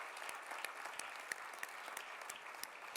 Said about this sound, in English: give a huge round of applause to the organizers and everyone who's contributed